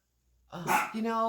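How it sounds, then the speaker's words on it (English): A dog barks at a window indoors, a few sharp barks after a brief quiet start, close and fairly loud with a sustained harmonic yelp at the end. "Every time I try and tape something, I get a dog barking at the window."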